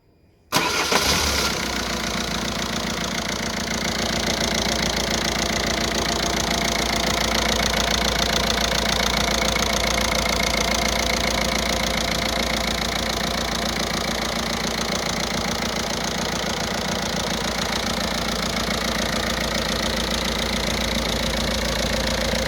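Citroen Berlingo 1.6 HDI DW6 16-valve diesel engine cranks and catches to start after repair work, then settles into a loud, steady, close-up idle with a continuous clattering rumble and no talk.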